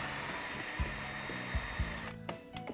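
A power drill backs a screw out of a pine picnic table stretcher, a loud, steady whirring grind with slight pulses that cuts off abruptly about two seconds in, followed by a few faint clicks.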